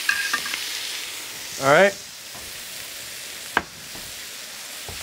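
Chicken sizzling on a grill over high heat, a steady close frying hiss running throughout, broken by a few clicks and clatters and a short spoken remark.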